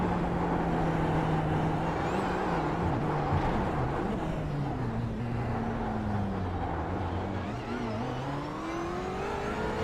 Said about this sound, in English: You can listen to that throttle as he picked it up very early on exit